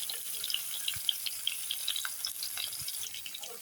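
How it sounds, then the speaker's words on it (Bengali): Onion and potato frying in soybean oil in a home kitchen pan, a faint, steady sizzle with light crackles and occasional soft clinks, no talk. "সয়াবিন তেল দিয়েছি, পেঁয়াজ আর আলুটা ভেজে নেব।"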